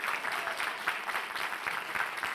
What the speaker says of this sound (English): Give them a long round of applause.